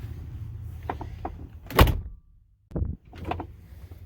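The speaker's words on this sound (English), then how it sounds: "See if the door will close." An SUV door swings shut with a loud, solid thunk near the middle, followed by a brief rattle and settling noise, close by and with no talking.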